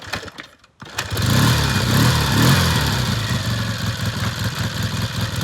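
A warm 1973 Triumph TR5T 500cc trail motorcycle is kicked over and fires up after a brief pause, settling into a steady, loud, close thumping idle that runs on without talk.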